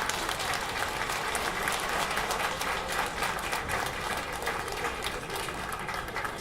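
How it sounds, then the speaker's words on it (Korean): A concert audience at an orchestra performance applauds warmly, a sustained, even wash of many hands clapping that holds steady and eases slightly toward the end. "큰 박수 부탁드립니다."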